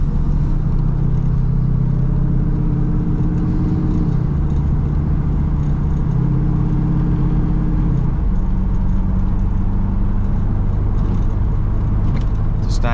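A Corvette drives over bumpy road, its engine giving a loud, steady low rumble with shifting droning tones inside the cabin, continuous from start to finish.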